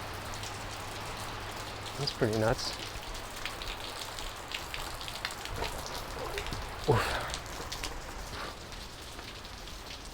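Light rain patters steadily on an outdoor surface as a front passes, a soft continuous hiss with a loose flag line occasionally knocking; someone speaks briefly over it.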